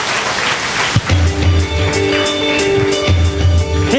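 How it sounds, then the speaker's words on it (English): Audience applause fills a 2012 conference hall: loud, sustained clapping from a crowd, with a few whoops and a rhythmic thumping beat mixed in. "A giant round of applause for Nick French."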